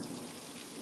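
A burst of thunder from a nearby lightning strike in a severe southwest storm, a brief broad rumble layered over steady rain.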